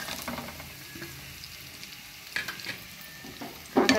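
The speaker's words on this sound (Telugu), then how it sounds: "కాకరకాయలంతా వేసి చక్కగా క్రిస్పీగా ఫ్రై చేయాలి." Bitter gourd rings fry in hot oil in a pan, a close, continuous sizzle with scraping and stirring sounds throughout, ending in a louder clatter.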